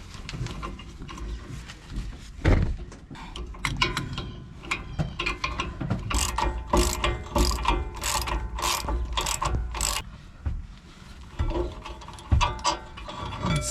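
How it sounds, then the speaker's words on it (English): A ratchet wrench with a 21mm socket clicks in quick repeated strokes while loosening the two rear brake caliper bracket bolts on a 2019-2024 RAM 1500 pickup, crisp and close, with occasional clunks of the tool between strokes. "With a 21mm socket, take the two caliper bracket bolts out."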